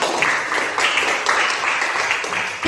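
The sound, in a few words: classroom students applauding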